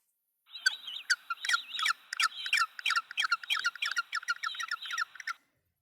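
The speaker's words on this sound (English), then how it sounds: "Penguin." A penguin calls in a run of rapid, harsh, chattering notes for about five seconds, loud and close against silence.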